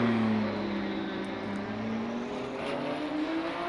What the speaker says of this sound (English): this Alpine does have a turbo, but it has a very good engine note